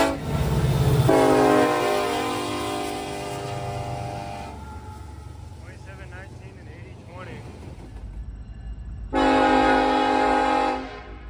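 Freight train 20AC with a Barcode unit leading and two Union Pacific locomotives behind, sounding two loud multi-chime horn blasts separated by a quieter stretch of rolling rumble, with a person speaking in between.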